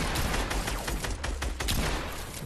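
Dense bursts of gunfire in the video game Fortnite, rapid overlapping shots fired in a loud, continuous volley lasting a couple of seconds, close and uninterrupted.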